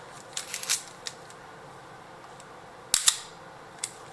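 An Olympus OM-1N with the lens off and mirror locked up fires its shutter in soft, crisp mechanical clicks, a small cluster early, a sharper double click later and one more quick snap near the end.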